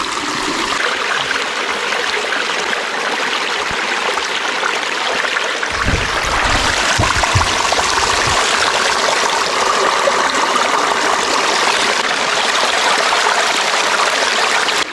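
Water rushes steadily and loudly through a Goldibox sluice box during gold prospecting, a dense continuous wash with a few low knocks partway through.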